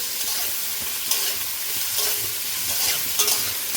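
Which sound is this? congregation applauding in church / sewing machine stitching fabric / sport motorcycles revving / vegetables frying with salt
vegetables frying with salt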